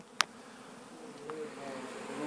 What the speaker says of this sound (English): So the bees are starting to run.